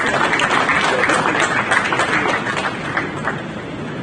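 An audience at a formal event gives a round of applause, a loud, dense wash of clapping that holds steady for several seconds and then eases slightly.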